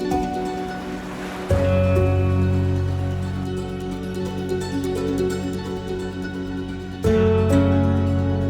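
Ocean waves wash ashore at Kites Beach, a continuous loud surging rush with a steady droning hum underneath that jumps in pitch twice.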